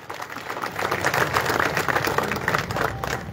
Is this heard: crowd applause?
yes